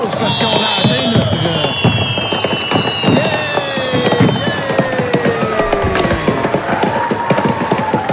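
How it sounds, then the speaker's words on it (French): Explosion sound effects set off on a live stream crackle and pop in loud, dense bursts over a steady layer of tones and sweeping effects, without let-up. "c'est pour ça que tout explose"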